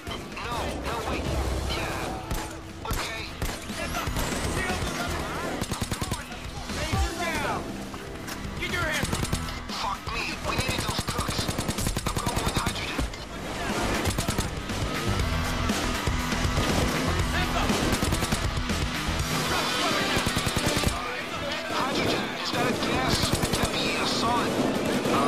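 Constant gunfire in Payday 2, dense overlapping shots and crashing impacts filling a long, loud firefight, with a player talking over the din.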